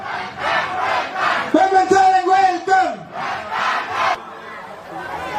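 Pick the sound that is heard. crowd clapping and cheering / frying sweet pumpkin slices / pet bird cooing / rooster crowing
crowd clapping and cheering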